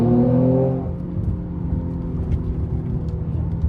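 A Mercedes-AMG C43 with its factory exhaust hums low while driving at night, a steady engine drone that eases off after a brief louder moment at the start.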